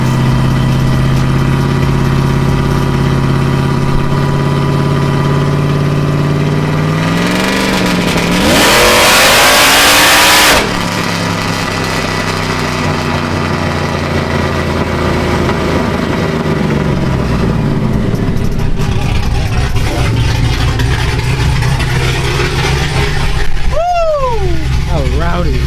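Supercharged LSA V8 in a Chevrolet Silverado on low-profile tires with 4.11 gears, making a pull on a chassis dyno: a loud, steady engine drone builds, surges into a hard full-throttle roar, then drops back and winds down, with brief voices near the end.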